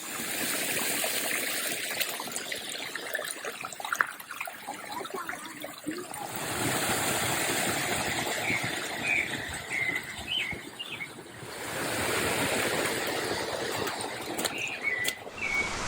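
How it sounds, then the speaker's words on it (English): A small forest stream in the Brazilian highlands trickles and burbles steadily, close and continuous, with insects and crickets chirping and occasional bird calls in the background. "this little stream in the forest"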